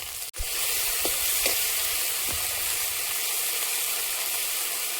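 Ginger garlic paste, onion and tomato frying in a pan, a loud, continuous sizzling hiss that starts with a sharp knock and has a few faint clinks over it.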